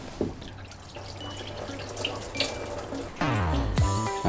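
Coolant drains from an MG Midget radiator, pouring and splashing into a container under the car in a steady trickle with drips, growing louder and fuller near the end.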